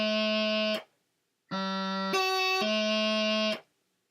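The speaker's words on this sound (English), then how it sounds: "So your grace note might sound something like this" A grace note played slowly on a reedy, buzzing wind instrument: a steady held note stops, then resumes, with a brief higher ornament note before settling back to the sustained tone, loud and close with no talking.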